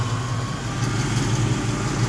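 A car engine idles with a steady, rumbling exhaust drone, close and continuous, without any talking.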